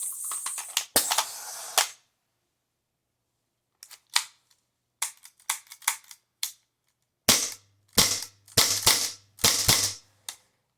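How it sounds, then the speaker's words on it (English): A CO2-powered pellet gun fires a string of sharp, dry pops, close and crisp, some spaced apart and others in quick clusters with gaps of silence between, no one speaking. "Pretty powerful gun"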